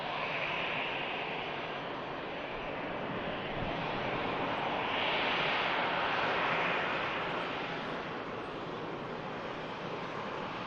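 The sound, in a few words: EasyJet airliner taking off for Paris Charles de Gaulle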